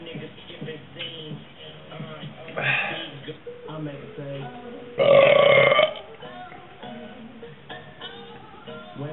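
A person lets out two loud, drawn-out burps, the second longer and stronger, between stretches of casual talk.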